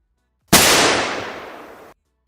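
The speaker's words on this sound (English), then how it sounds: "gunshot had been redeemed just as it was going off in my ear sockets" A single loud gunshot sound effect fired during a livestream, a sharp close blast with a long ringing decay that fades out after about a second and a half, heard alone.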